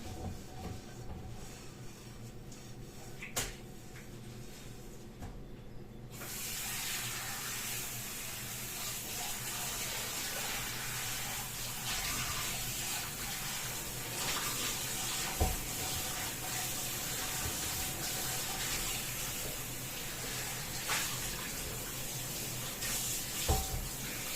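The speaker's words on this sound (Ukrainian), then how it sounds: "Миємо сковорідку," A frying pan is rinsed under a running kitchen tap. After a quiet opening stretch, a steady, close hiss of flowing water starts and continues evenly.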